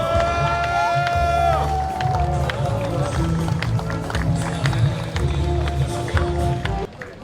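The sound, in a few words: crowd applause and cheering at union rally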